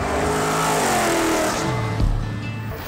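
An off-road race car at the King of Hammers event, driven flat out at high speed: a loud, sustained engine roar with a shifting pitch that swells near the end, with no voices over it.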